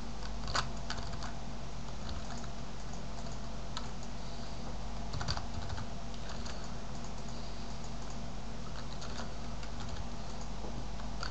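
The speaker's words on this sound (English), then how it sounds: "just hitting the numbers on the keyboard" Number keys on a computer keyboard tapped in scattered clicks during Photoshop editing, faint and close, with no voices.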